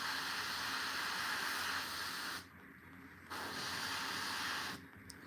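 An airbrush sprays paint onto a Warhammer miniature, a steady close hiss that cuts out twice briefly and resumes, with no talking.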